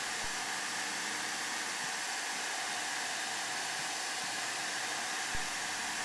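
A dryer heats a plastic guitar pickup ring held in a jig to fix its warp. It makes a steady, loud hiss of blowing air that lasts the whole time, with a couple of faint thumps.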